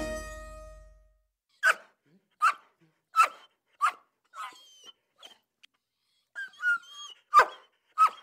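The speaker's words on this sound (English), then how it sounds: "That's the excited and playful bark of one of Lane County Sheriff's K-9 patrol dogs" A police K-9 patrol dog barks in short excited, playful bursts, about eight or nine loud barks spaced irregularly, with a faint whine between them, close by; a brief hum precedes them.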